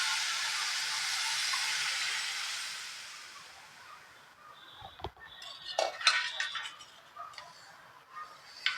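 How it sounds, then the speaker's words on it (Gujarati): Milk poured into a pan of seviyan roasted light brown, a steady broad hiss and rush that fades after a few seconds, followed by clinks and scrapes of utensils against the pan. "દૂધ રેડીશું"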